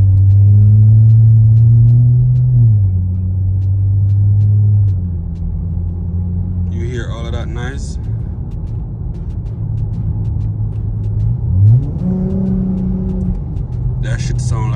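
Honda car with a Vibrant bottle-style resonator on the exhaust, driving: a steady low exhaust drone that rises and falls with throttle, loudest early on, with occasional higher mechanical whines over the engine rumble.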